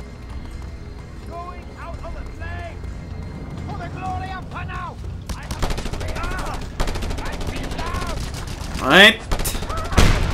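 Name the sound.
gunfire from weapons in Just Cause 2 video game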